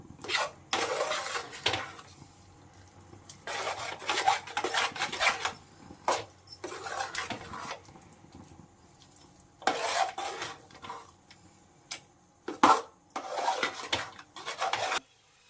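A spoon scrapes and clinks against a pan while a sweet mixture is stirred in ghee, uneven bursts of scraping with short pauses, close and fairly quiet, no talk.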